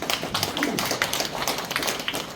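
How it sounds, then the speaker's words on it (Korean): Audience clapping at a regional council member's community report meeting in a farm cooperative hall, a continuous even patter of many hands, moderately loud. "박수를 주신 분들은"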